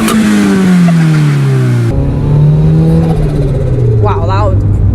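A turbocharged, rear-wheel-drive converted, slammed Toyota RAV4 with its wastegate dump pipe venting out of the bonnet, revving hard and loud with falling engine tones, an abrupt cut partway through, and a voice talking toward the end.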